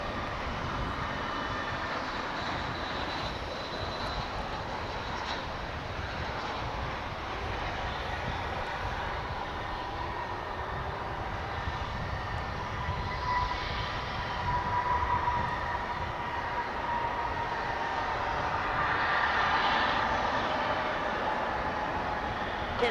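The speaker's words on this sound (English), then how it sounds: "That was an A321 American Airlines Flight 204 coming in from Austin, Texas." An American Airlines Airbus A321 arriving at Dallas/Fort Worth Airport, heard as a steady, broad engine roar held at a distance that swells slightly louder toward the end, with no talking.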